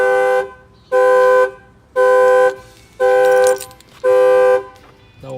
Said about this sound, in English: that will fire off the factory alarm